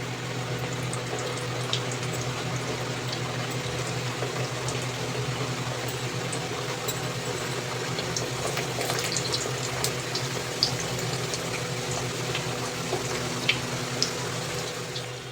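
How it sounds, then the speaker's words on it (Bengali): Continuous sizzling and fine crackling of sweet mathri deep-frying in hot oil over a medium flame, steady and close with scattered sharp pops throughout. "তেলের মধ্যে ছাড়তে হবে দিয়ে আবারও আমি গ্যাসের ফ্লেমটা মিডিয়াম করে দেবো দিয়ে এগুলো ভেজে দেবো"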